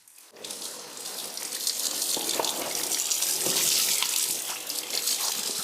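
Foamy water runs from a tap in an abandoned hall: a steady splashing gush starts after a brief pause and swells to a full, close rush that carries on without a break.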